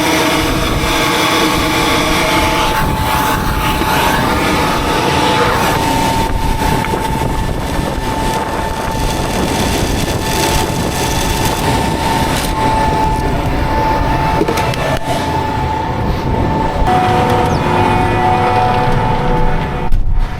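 Planter vacuum fan whining steadily after being turned up, a loud continuous mechanical drone with a sustained tonal hum running through the whole stretch, no voices over it.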